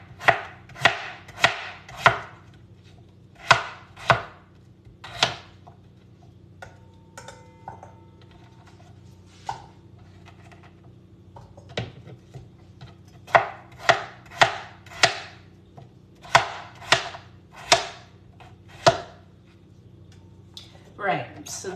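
Knife chopping a potato on a cutting board, crisp irregular chops in clusters with pauses, close and distinct, while someone talks quietly between cuts.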